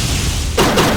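A single deep cannon blast fired in the VR space shooter game Space Shooter VRTD, a loud sudden boom with a broad noisy burst that follows a low rumbling lead-in, heard alone without speech.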